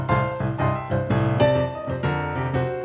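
Solo piano runs through a shuffle boogie woogie bass line: a loping, swung pattern of low notes with chords struck above, played close and evenly loud, with no voices.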